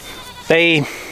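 A baby goat lets out a single short, nasal bleat, close and loud, over faint background hum.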